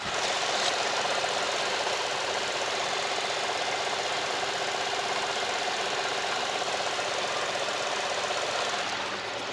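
A small three-cylinder Chevrolet Spark engine idles steadily close by, a constant rough, ticking hum that holds level throughout before easing off at the very end.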